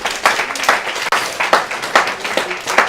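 A church congregation claps in praise during a sermon, rhythmic mid-level applause with uneven strokes and a short pause partway through, a room of hands beating together.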